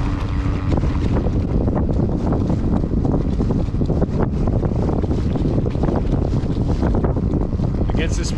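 Steady loud wind buffets the microphone while riding a small motorized kayak over open water, a constant roar with splashing beneath and a voice speaking through it.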